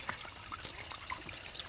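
Water trickling in a small, low village stream, a soft continuous burble with light bubbly drips, quiet and close, with no talk.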